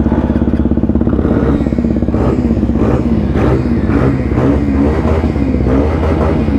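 A motorcycle engine in a PC racing game drones and revs continuously at close range, a loud buzzing tone with rhythmic pulsing swells throughout.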